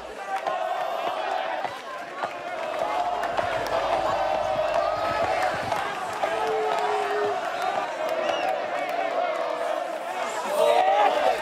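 Crowd cheering and shouting at a horse festival in Menorca as horses rear among the spectators, a steady dense roar of voices with whistles and yells throughout, loud and close.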